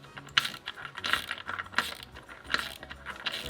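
A ratchet tightens a radiator pipework fitting during a plumbing install, giving a series of sharp metallic clicks at an uneven rhythm, close and fairly quiet with no talking.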